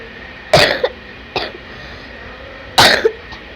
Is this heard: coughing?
yes